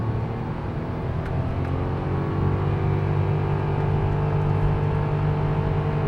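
A Daihatsu Wake kei car engine at full throttle, pulling uphill: a steady, close droning roar with revs climbing slowly, and no talking over it.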